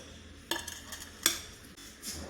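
A plate is picked up and handled for serving bajji with ketchup, giving two sharp clinks about a second apart, followed by softer scrapes and a faint rustle, close and quiet against a low background.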